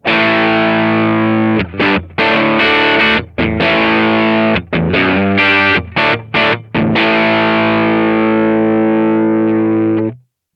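Heavily distorted electric guitar played through a Kemper or Quad Cortex with a speaker cab simulation, loud sustained chords broken by short choppy stabs and gaps, ending on a long ringing chord that fades and stops.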